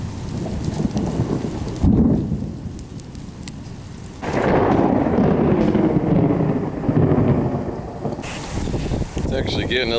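Thunder rumbles in a Florida summer storm, deep rolling booms rising and fading over steady rain, with wind gusting at times.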